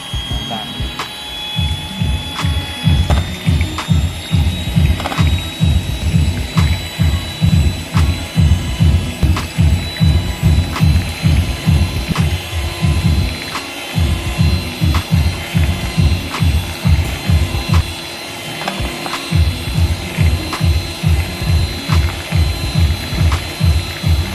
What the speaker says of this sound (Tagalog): At i-mix naman natin ito gamit ang electric hand mixer.